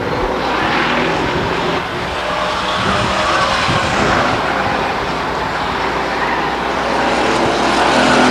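Pure stock race cars roar around Stockton 99 Speedway, a loud continuous rumble of several engines that swells and fades slightly as the pack moves, with no voices over it.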